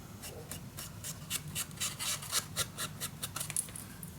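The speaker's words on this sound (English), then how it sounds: "we can smudge the edges. Smooth the edges." Soft, repeated rubbing strokes as paper edges are smudged and smoothed on a handmade paper-bag mini album, a quiet rasping rhythm of about a dozen brushes, close and without talk.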